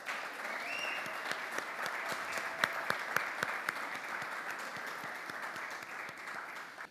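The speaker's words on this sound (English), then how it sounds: "give yourselves a round of applause" Crowd applause at a live poetry and song evening, a sustained bed of clapping with a few crisp, louder nearby claps popping out before it fades.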